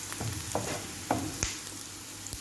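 Onions brown in a frying pan with a steady close sizzle, broken by several quick stirring scrapes at an uneven pace, with no voices.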